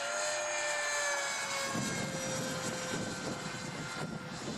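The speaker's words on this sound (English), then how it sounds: "This is such a fast plane." An E-flite F-15 RC model jet streaks past, its steady electric ducted-fan whine loud and continuous throughout, with a slight pitch shift as it flies by.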